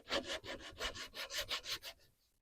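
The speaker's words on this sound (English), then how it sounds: "We're going to take our strip of sandpaper. This is 120 grit" A strip of 120 grit sandpaper worked back and forth around a wooden tenon, about ten rhythmic, close rasping strokes in quick even succession before stopping abruptly.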